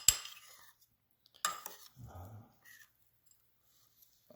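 A spoon stirs oatmeal in a pot in a few short, quiet clinking and scraping bursts, with soft pauses between them and no talk over them.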